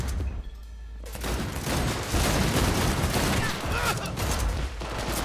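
Gunfire in the video game Cyberpunk, a dense, loud burst of shots and blasts that fills the scene almost continuously, with game characters shouting and talking over the chaos.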